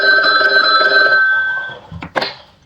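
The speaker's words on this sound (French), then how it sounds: "J'aimerais bien avoir Ben au téléphone" A telephone rings inside a survival video game, a loud electronic bell trilling steadily for about a second and a half before cutting off, followed by a couple of short clunks.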